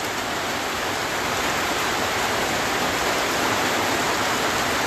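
Heavy rain pours down in Sylhet, a dense, steady, loud hiss of falling water that continues unbroken throughout with no voices.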